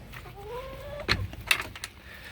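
Backyard hens feeding on raspberries give soft, close clucks and short vocal calls, with a couple of louder pecking or scuffling bursts midway through.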